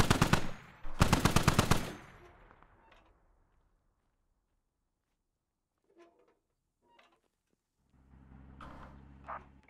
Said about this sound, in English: They're shooting at friendlies!